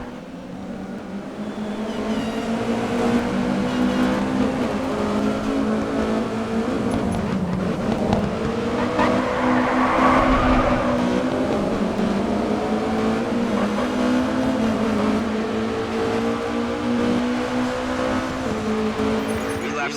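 Race cars roar around the track in the racing video game GRID 2. Engines drone loudly and continuously, their pitch rising and falling as they accelerate and shift.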